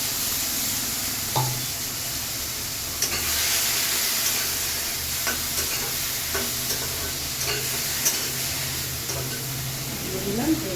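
Frying food sizzles and hisses steadily in a pan while mustard paste is stirred in, with scattered clinks and scrapes of stirring over the continuous sizzle.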